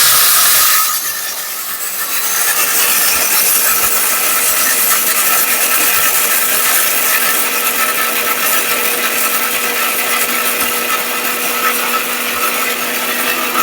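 A Ricco blender grinds dry gram flour and jaggery, starting after a short pause and then whirring at full power in a loud, harsh, continuous roar with no talking.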